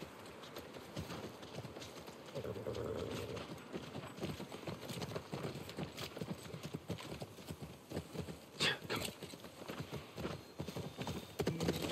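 Horse hooves clip-clop steadily on the ground in The Last of Us remake, a continuous close rhythmic clatter with occasional snorts, while someone talks now and then over the top.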